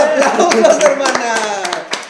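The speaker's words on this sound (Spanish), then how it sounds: "El aplauso, grandes aplausos, hermana." Brief, lively audience clapping at a talk-show taping, scattered claps popping through as a voice speaks loudly over them.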